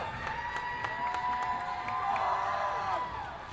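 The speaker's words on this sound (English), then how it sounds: "And listen to that crowd go." A rink crowd at a high school hockey game between Liverpool and Ontario Bay cheers and claps as the game ends, a broad roar heard from a distance with a few tonal calls rising above it.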